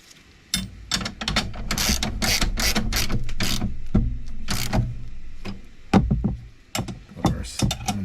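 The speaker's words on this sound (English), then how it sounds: "So let's get these bolts tightened up and continue on" A hand ratchet clicks rapidly in close, repeated bursts as bolts are tightened on a 2-inch Highlifter vehicle lift kit, with short pauses and a few metallic knocks between strokes.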